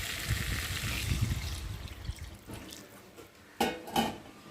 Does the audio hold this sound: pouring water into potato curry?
yes